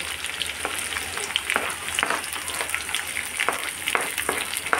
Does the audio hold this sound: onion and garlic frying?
yes